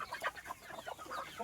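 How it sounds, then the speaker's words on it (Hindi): Farmyard chickens cluck softly while they are fed turmeric rice, giving quiet, close, irregular bursts of short clucks for a brief moment. "अभी मैं मुर्गियों को खाने के लिए डाल रहा हूँ"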